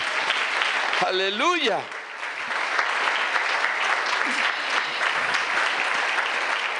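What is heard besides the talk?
church congregation applauding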